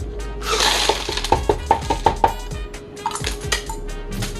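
Ice cubes clatter into a blender jar for a blueberry strawberry smoothie: a handful of quick, hard clinks and knocks in a short rhythmic burst, then a few scattered lighter rattles, close and fairly loud in a quiet kitchen.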